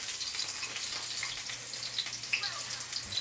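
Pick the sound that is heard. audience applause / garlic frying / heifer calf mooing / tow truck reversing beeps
garlic frying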